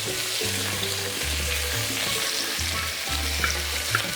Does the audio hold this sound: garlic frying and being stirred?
yes